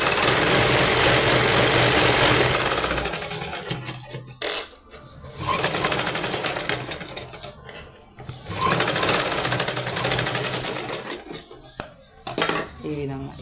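A sewing machine stitches a straight seam along a blouse sleeve near the shoulder, running steadily in two long bursts with a brief pause between, then stopping and starting in short spurts. A voice speaks softly beneath the machine's hum.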